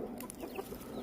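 Backyard chickens kept in a home-built coop cluck and chirp softly in a brief, faint burst of overlapping bird calls with a low background hum.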